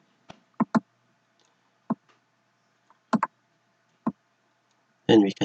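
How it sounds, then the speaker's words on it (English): Left mouse button clicks on a computer mouse, sharp single and double clicks spaced irregularly over a quiet background, with a voice speaking briefly at the end. "Click on that, just left click or left button of the mouse"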